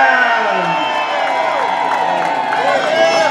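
A crowd at a wage parity march in the city cheers and whoops loudly over steady babble, with shouted voices and clapping blending into a continuous roar throughout.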